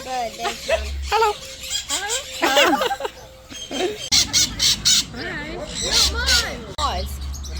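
Parrots on the island of St Martin let out repeated harsh squawks and squeals at close range, broken by short pauses, while people talk nearby.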